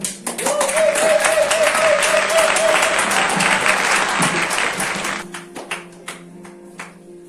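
A church congregation bursts into loud sustained applause, dense clapping with a cheer rising above it, then the clapping thins and fades out over the last couple of seconds.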